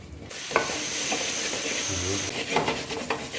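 Chickpeas tossed with masala in a hot pan on high flame, a steady sizzle with scraping stir strokes close by and several sharper utensil clicks near the end.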